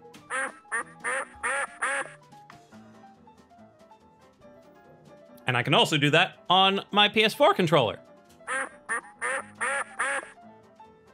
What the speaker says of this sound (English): if we press the space bar, the background will change color, and you will hear a duck quack